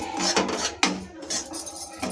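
Semolina being stirred for pineapple kesari in a pan, with a steady metallic scrape of a spoon and a sharp clink near the middle, then more scraping.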